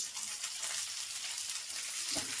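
Chopped tomatoes hitting hot oil with frying onions in a pan give a steady, bright sizzle throughout, fairly faint and close, with a small thud near the end.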